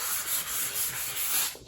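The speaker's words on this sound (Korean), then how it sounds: "나무의 결이 이렇게 세로 나와 있는데 이렇게 결방향대로 사포질을 합니다" Sandpaper rubs along the grain of a wooden piece during a woodworking session, with steady, rhythmic back-and-forth strokes that are close and moderately loud, and no voices.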